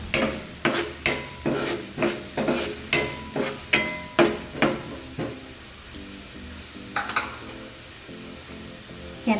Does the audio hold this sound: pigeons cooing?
no